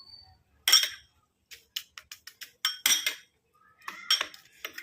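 Spoon stirring juice into a mixture in a bowl: a quick series of light clinks and scrapes, separated by short pauses.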